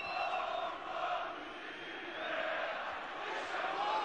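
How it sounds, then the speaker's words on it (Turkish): Stadium crowd at a Galatasaray versus AC Milan Champions League group-stage football match roars and cheers after a near-miss shot, a dense, sustained wall of voices with swelling peaks, loud and continuous. "Alkışlar Capone'ye."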